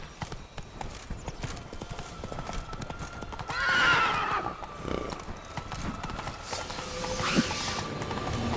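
A horse in The Witcher 3 with rhythmic hoof clip-clops on a hard surface, a loud neigh midway, creaking tack and mechanical clicks, and occasional voices.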